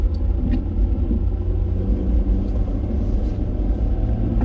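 A Ford truck rolls along a slick, snow-covered road in a winter storm, its engine and tires making a steady low rumble that fills the cab with no break throughout.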